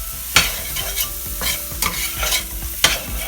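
Day-old rice stir-fried in a pan, with several sharp scraping clatters of the utensil tossing the rice over a soft, constant background sizzle.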